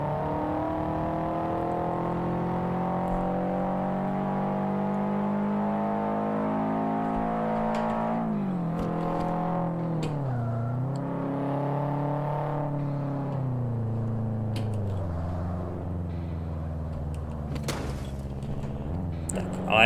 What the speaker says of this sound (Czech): Musím říct, že to Subaru má hezký zvuk.